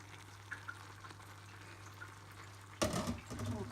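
Pumpkin cooking in a pan over a low flame, releasing water, a faint low simmer and hum, then a sudden louder burst of rustling and bubbling near the end, close and with no speech.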